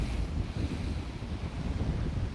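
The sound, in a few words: wind blowing on outdoor microphone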